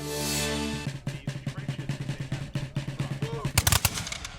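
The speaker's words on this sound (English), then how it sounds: "It's the crack of muskets, the thunder of cannons" A steady volley of sharp musket fire bursts repeating in rapid rhythm, with louder cannon blasts near the end, following a brief hum of voices at the start.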